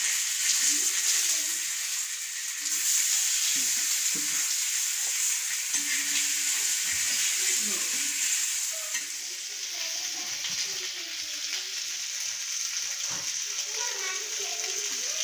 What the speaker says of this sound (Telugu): మధ్య మధ్యలో ఇట్లా టర్న్ చేసుకుంటూ ఫ్రై చేసుకోవాలి